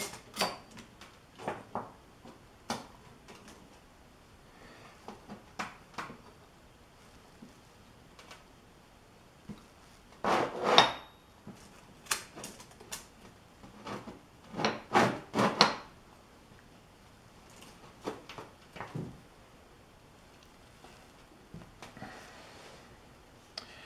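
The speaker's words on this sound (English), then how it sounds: "So I think what we want to do now is clamp these together." Metal pieces being clamped together in a workshop: scattered clanks, clicks and knocks, a few louder grouped bangs in the middle, with quiet gaps between.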